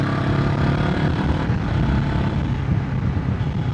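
Honda CBR500R motorbike engine at half throttle while still being run in, a steady dense drone mixed with heavy wind rush, continuous and loud for the whole stretch.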